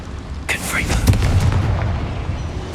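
A fiery Confringo spell blast bursts in the Hogwarts Legacy video game, a loud booming explosion with a sharp onset that rolls into a sustained rumble, with a voice speaking over it.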